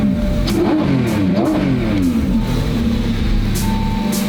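A Lamborghini Revuelto sports car engine revs loudly and close, rising and falling in pitch with a throaty roar, then settling into a steady rumbling idle.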